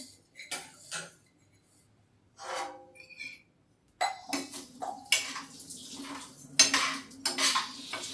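Rice dry roasting in a pot over a low flame, with a utensil scraping and stirring through the grains in a run of clattering metal clinks and rattles, close and moderately loud, pausing briefly before picking up again.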